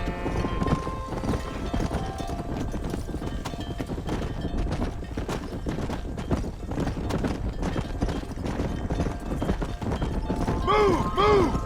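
Horses galloping with dense, continuous clip-clop hoofbeats in the Red Dead Redemption video game, loud throughout, with a horse neighing near the end.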